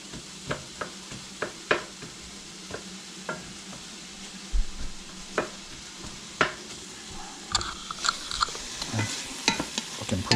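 Food browning in a frying pan, a low sizzle under repeated clinks and scrapes of a utensil stirring, with clusters of knocks toward the end and no voices.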